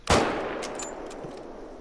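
A single sharp hunting-rifle shot in theHunter: Call of the Wild cracks out loud and alone, then trails off into a long, fading echo over a quiet outdoor ambience.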